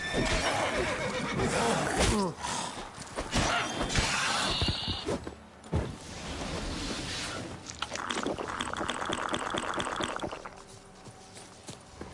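Roach the horse in The Witcher lets out loud whinnies and snorts amid game sound effects, including a shattering crash and clattering movement, with no voices over it.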